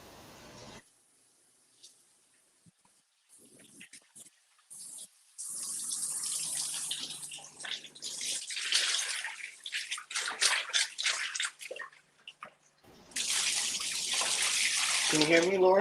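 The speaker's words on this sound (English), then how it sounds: "you're making water noise" Water runs from a tap into a basin in a home, rushing loudly in long stretches with brief pauses and sloshing, alongside some quiet room noise.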